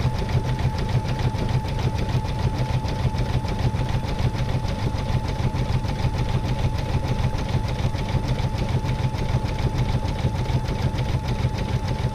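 An embroidery machine, a relatively new home unit under two years old, stitching steadily with a constant mechanical whir and rapid needle chatter, loud and close for the whole span, no voices.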